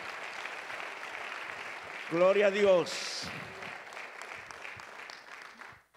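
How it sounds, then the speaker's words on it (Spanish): A church congregation applauds during a presentation service, giving a steady patter of clapping. A voice calls out over it briefly before the clapping fades. "Démosles un aplauso a ellos."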